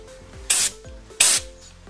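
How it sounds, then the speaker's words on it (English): Carb cleaner sprayed into the air passages of a Yamaha Mio Sporty motorcycle carburetor: two short, loud hissing bursts about half a second apart, close by, over a faint low hum, with no talking. "pwede rin naman gumamit ng carb cleaner. Spray nyo lang yung mga air passage natin."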